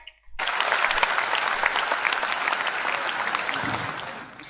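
Sustained audience applause at a Hindi poetry recital in Rohtak, loud and dense, starting abruptly after a brief silence and continuing steadily throughout with many hands clapping.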